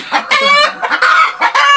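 A laying hen clucks and squawks in quick, loud bursts close by, with a few drawn-out calls.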